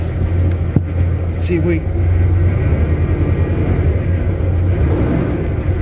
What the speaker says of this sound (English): we're gonna start right now by putting her in gear